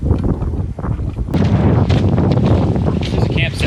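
Strong wind buffets the microphone at an exposed lakeside campsite in Temagami, a loud, continuous roaring rush that swells after the first second, with a voice partly buried beneath it.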